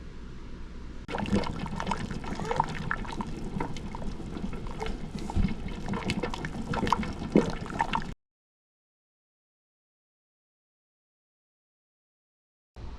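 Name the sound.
scraping leftover peach jam from the pan into a jar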